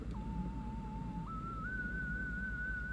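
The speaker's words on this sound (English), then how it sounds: "they do like you playing your whistle" Player's whistle in the video game Endless Ocean, a single sustained pure tone that holds steady, then steps up twice in pitch, clear over a soft low ambient hum.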